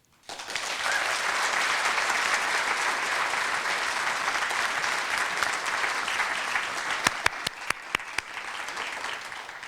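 Sustained applause from a large audience at a Williams College winter celebration, steady and loud throughout, with a few sharper claps standing out near the end.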